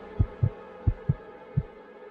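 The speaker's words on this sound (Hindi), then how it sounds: "मेरा दिल जोर से धड़कने लगा" A pounding heartbeat thumps five times, low and close, in heavy irregular pairs over a faint hum, with no voices.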